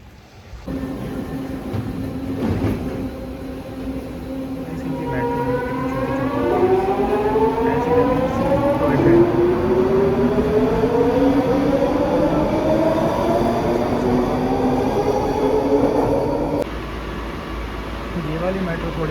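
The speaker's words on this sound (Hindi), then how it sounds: "ये वाली मेट्रो थोड़ी ठीक है पहले वाली से" A metro train in Canada whines and hums as it moves, with a rising, gliding motor tone building over several seconds, steady rumbling underneath, then a sudden shift near the end; no clear talk over it.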